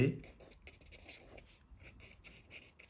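Pen on paper while working a Class 7 arithmetic problem, a series of soft, close scratchy strokes with short pauses between them, and a faint voice at the very start.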